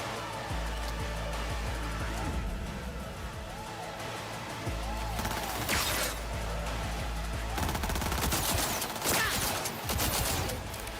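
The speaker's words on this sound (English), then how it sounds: "these tech guns are so cool" Tech guns in Cyberpunk 2077 fire in rapid bursts of gunfire, with fuller volleys in the second half, heard at a moderate level over game ambience.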